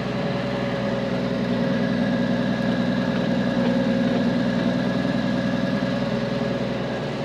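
Chevy 4.1 engine running on a wood gasifier, a steady, even idle drone that holds at the same level throughout, heard alone with no talk over it.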